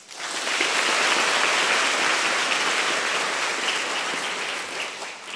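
Sustained applause from an audience at a gathering of policewomen who memorize the Quran, a dense steady wash of clapping that swells quickly and holds for several seconds without talk.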